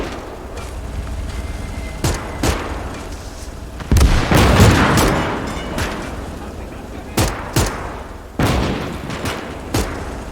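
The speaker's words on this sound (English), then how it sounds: "Granate raus! Granate raus! Verdammte Handgranate!" Hand grenade explosion and gunfire in the WWII game Call to Arms – Gates of Hell: Ostfront, with loud sharp shots and a heavy booming blast amid a steady battle din, and voices shouting in between.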